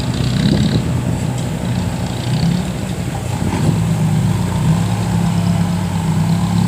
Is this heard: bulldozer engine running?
yes